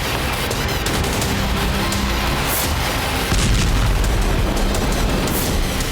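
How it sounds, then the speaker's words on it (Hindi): A loud, distorted boom and heavy rumbling blast as a drone strikes the Tuapse oil refinery in Krasnodar, with crackling bursts and a surge in intensity partway through. "दूसरा ड्रोन गिरता है और एक जोरदार धमाके के साथ आग और धुआं नजर आने लगता है"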